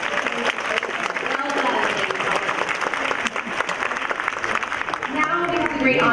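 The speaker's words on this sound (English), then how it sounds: "Please give one more round of applause for all the candidates in the town." Sustained applause from the audience at a cherry blossom queen program honoring the festival queen candidates, a steady dense wash of clapping throughout, with a voice talking over it near the end.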